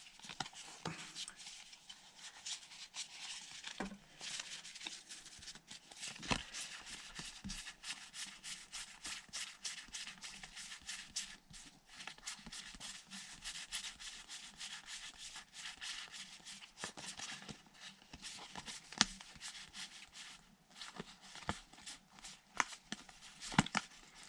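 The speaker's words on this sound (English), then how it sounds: "Flying through the cards, I'm forgetting to turn some of these ones over." Pokémon trading cards from an eBay collection are flipped through quickly, a long, quiet run of close soft slaps, rubs and scrapes at an uneven, brisk pace.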